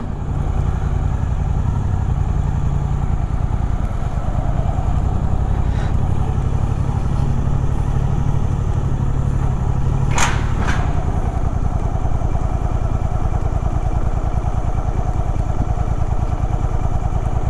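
A Suzuki GSX-8R motorcycle engine labors at low RPM in first gear on an incline, a loud, steady low rumble throughout with a couple of brief mechanical clicks, and no one speaking.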